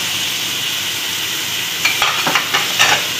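Onions and carrots sauté in a hot pan with a steady soft sizzle, then a few sharp scraping stir strokes near the end.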